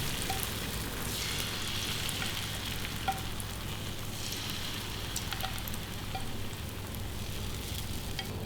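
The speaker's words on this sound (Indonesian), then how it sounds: "Nah ini tinggal kita goreng sob ya." Steady, crackling sizzle of egg batter frying in hot oil over low heat, constant and close throughout with a low hum underneath.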